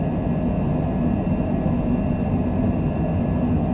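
A Cessna jet's engines roar steadily and loudly through a takeoff roll on the runway, a constant deep rumble with a faint high whine on top and no pauses.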